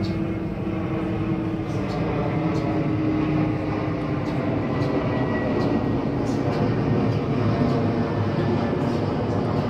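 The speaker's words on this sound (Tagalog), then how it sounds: "Oy, laki ng eroplano." A large Cebu Pacific airplane passes overhead, giving a steady, broad, low roar that holds evenly throughout without fading.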